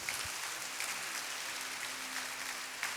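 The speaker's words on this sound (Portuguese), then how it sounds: "Uma salva de palmas para Jesus" A church congregation at a worship service gives a round of applause, a faint, distant wash of many hands clapping steadily throughout.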